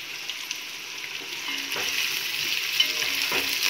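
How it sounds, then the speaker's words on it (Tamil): Onions with green chillies sautéing in a pan for Tamil chicken biryani give a steady, moderately faint sizzle, with a couple of soft stirring scrapes and no voices. "வெங்காயம் வதங்கிட்டு இருக்கு."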